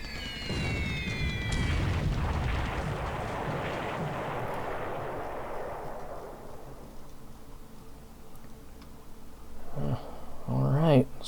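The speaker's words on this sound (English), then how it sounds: "It takes 2 hits with a fuel storage explosion, 3 hits." Explosion effects from the War in the Pacific strategy game as a ship is hit and its fuel storage blows up: a heavy rumbling boom that slowly decays, then fresh blasts near the end, with a voice speaking briefly at the start.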